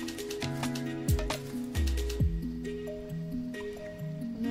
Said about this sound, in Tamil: 2 tablespoons எண்ணெய் ஊற்றிருக்கேன், கொஞ்சம் கடுகு, கொஞ்சம் கருவேப்பிலை சேர்த்துட்டு தாளித்து அதில் சேர்த்துடலாம்.